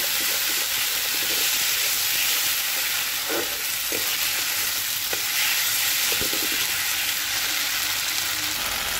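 Spice paste (masala) sizzles steadily in hot oil in a pan for a Bengali fish curry, with a constant bright frying hiss and occasional scraping stirs and clinks of the spoon.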